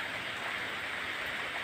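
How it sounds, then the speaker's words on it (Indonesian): Steady rain falls in a village in Langkat, North Sumatra, after a heavy downpour, a dense, even hiss of drops on surfaces that holds constant throughout with no talking. "Tadi hujan cukup lebat ya. Ini sudah agak berkurang volumenya."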